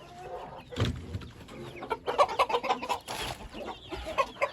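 Aseel chickens, an Amroha-type breed, clucking at close range in a pen, with a run of short repeated clucks and calls that grows busier toward the end; no one speaks.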